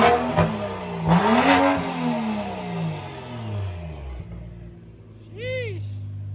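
BMW 335 with a stage 2 turbo upgrade revving close by, two sharp rising rev bursts that fall away into a lower rumble, followed later by a short whine-like sweep; voices are heard in the background.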